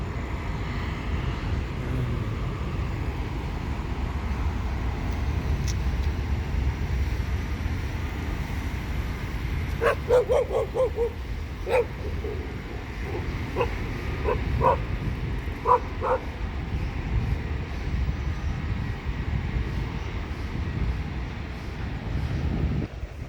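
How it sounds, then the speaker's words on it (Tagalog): Several dogs bark in short scattered bursts at a distance in a Philippine airport terminal parking lot, over a steady outdoor rumble of engines and traffic. "Ang daming aso dito sa parking lot."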